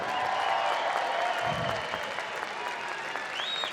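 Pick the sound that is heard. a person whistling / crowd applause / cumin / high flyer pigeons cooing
crowd applause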